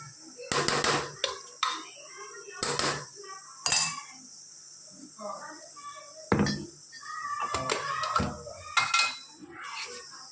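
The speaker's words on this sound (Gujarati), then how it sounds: "મસાલો બધો અંદર ભળી જાય શાકના અંદર એ રીતે આપણે સરસ મિક્સ કરી દઈએ." Stuffed brinjal with masala being stirred in a pan, giving a string of metal spoon scrapes and clinks against the pan, close and fairly loud, in irregular bursts with short pauses between.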